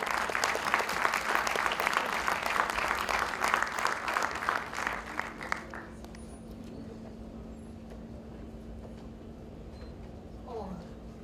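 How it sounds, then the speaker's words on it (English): An audience in a hall gives a round of applause at a public oration for National Technology Day, dense clapping for about six seconds that then stops, leaving quiet room hum. "Let us encourage and congratulate these young minds with a big round of applause in the hall."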